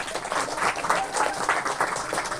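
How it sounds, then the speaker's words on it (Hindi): An audience of students claps loudly for a top-scoring classmate, a brisk, dense round of applause at close range that holds steady from start to finish. "ताली बजाओ जोर से।"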